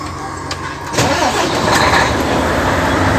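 A truck's engine cranks and fires on its first start of the day beside a highway, then settles into a loud, close, steady rumble.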